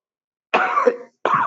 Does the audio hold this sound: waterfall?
no